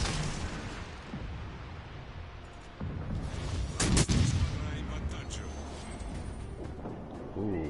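Torpedoes strike a ship in World of Warships, a rumbling run of heavy explosions with a sharp cluster of impacts near the middle over a steady low battle roar, fairly quiet overall.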